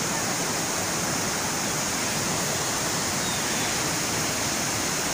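A village river runs in full flow after heavy rain, a dense, loud, unbroken roar of rushing water that fills the whole stretch without pause.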